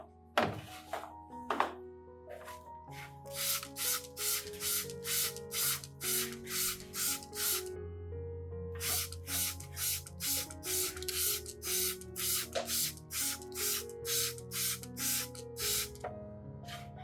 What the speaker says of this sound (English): I spray this solution directly onto the planted orchid's base